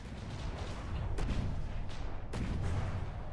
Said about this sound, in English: the missiles launched from the darts just exploding mid-air?